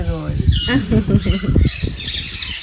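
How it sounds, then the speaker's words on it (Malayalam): Harsh squawks from green parrots burst out repeatedly, loud and close, overlapping with a voice talking nearby. "അല്ല പച്ചത്തത്തയുണ്ട്"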